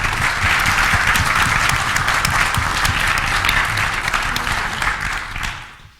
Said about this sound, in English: Let's a round of applause first for our incredible.